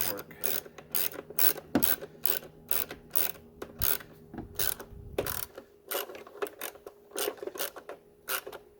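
A ratchet tightens bolts on the airbox intake boot of a Polaris Sportsman 500 ATV, giving rapid, close clicking bursts in an uneven rhythm with short gaps and no talk.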